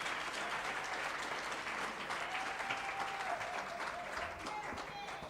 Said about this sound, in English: may you please give our speakers a warm round of applause